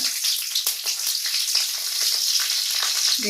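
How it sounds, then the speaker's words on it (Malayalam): Mustard seeds splutter with green and dried red chillies in hot oil for a brinjal pulissery, a loud, close, continuous sizzle dotted with sharp crackling pops. "അപ്പം കടുകൊന്ന് പൊട്ടിക്കിട്ടണം അതിലേക്ക് ഒരു രണ്ട് പച്ചമുളക്"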